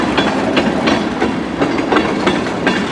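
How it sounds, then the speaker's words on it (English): A CN freight train rolls past at close range, a loud continuous rumble with rhythmic clickety-clack of wheels over rail joints repeating steadily throughout. "Maybe another westbound train."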